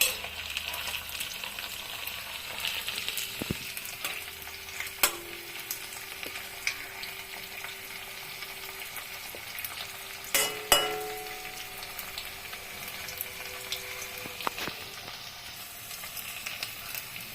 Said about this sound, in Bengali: এখন একইভাবে আবার ভেজে নিব এটাকে